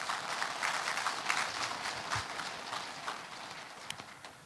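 Steady applause from an audience at a court-hosted lecture, broad and even for several seconds, a dense wash of clapping at moderate distance with no voices on top.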